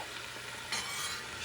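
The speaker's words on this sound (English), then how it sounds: "I'm going to add the beef" Beef shank goes into a hot pan, and a faint sizzle with a scrape of stirring rises briefly, short and quiet.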